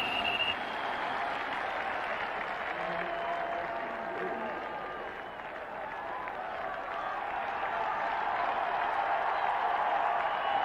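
A football stadium crowd at a 1993 Rams at Cardinals game roars steadily, a broad continuous wash of cheering and noise that swells slightly toward the end with no clear announcer voice.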